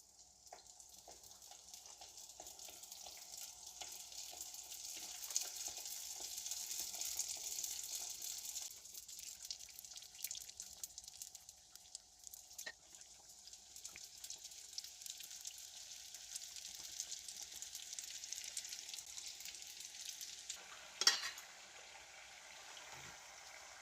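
Baursak dough fries in a pan of hot oil with a soft, continuous bubbling sizzle, steady and fairly quiet throughout, with a brief louder clatter near the end.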